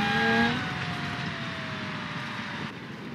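Big monster truck in the driving game BeamNG.drive, engine droning steadily with a falling whine early on, moderately loud and close with no talk.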